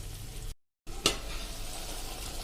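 Vegetable gravy for bottle gourd macaroni pasta cooks in a pan, giving a soft, steady sizzle with a brief gap in the sound and one short scrape of stirring.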